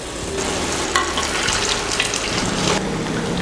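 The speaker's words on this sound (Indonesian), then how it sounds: "Kita mau goreng." Cassava and corn croquettes frying in hot oil, a steady sizzling hiss with light crackles and occasional pops, continuous and close throughout.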